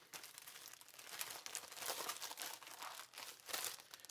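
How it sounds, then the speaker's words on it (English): A thin plastic baggie of ukulele accessories crinkles and rustles up close during unboxing, in quiet continuous crumpling bursts with no talking. "Just a plastic baggie."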